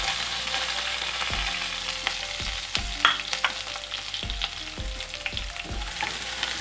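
Sliced onions fry in hot oil for lemon rice, a continuous close sizzle with intermittent stirring scrapes and clicks of a utensil against the pan, no talking.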